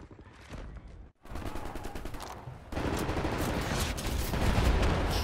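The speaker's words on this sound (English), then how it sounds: "Right, lads, you ready to lay down suppressor fire?" Sustained suppressing gunfire from Wolfenstein: The New Order builds from scattered shots into a dense, continuous barrage of overlapping rifle and machine-gun bursts, loud and close, with a brief silent break before the volley swells.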